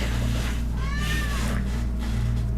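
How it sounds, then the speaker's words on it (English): A domestic cat gives one short meow near the middle over a steady low hum. "I had to let my cat in."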